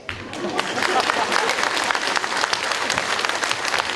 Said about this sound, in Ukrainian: Аплодуйте.